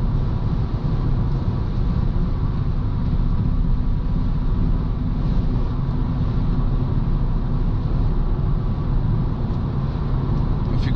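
A Honda Civic cruises along a highway at about 110 km/h, its cabin filled with a loud, steady low drone of road and engine noise that holds constant with no talking.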